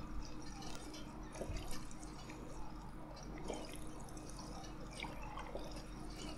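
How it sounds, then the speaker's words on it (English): Water trickles and drips steadily as bottles are filled in Fallout 4, a faint, continuous liquid pour over a low background hum with no talking. "Oh yeah, I found all those bottles. I'm going to fill them up."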